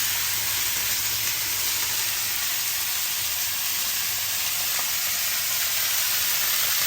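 Tomato chutney ingredients with green chillies frying in oil in a pan, a dense steady sizzle and hiss filling the whole stretch without pause.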